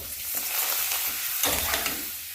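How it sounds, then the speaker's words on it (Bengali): Papads frying in hot oil, a steady broadband sizzle with crackling bursts that swell and settle across the short span, close and fairly loud with no voices. "এক হাতে ক্যামেরা ধরে করছি বন্ধুরা, পাঁপড়গুলো ভেজে নিই।"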